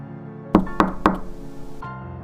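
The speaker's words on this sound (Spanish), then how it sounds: "Candy escuchó 3 golpes suaves en su puerta" Three soft knocks on a door, evenly spaced and close, each a short dull thud, followed by a brief quiet tail with no voices.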